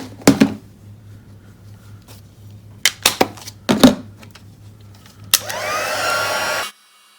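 A heat tool melts embossing powder on a stamped card: after several sharp taps and clicks, a steady blowing whir with a rising whine sounds close by for about a second before cutting off.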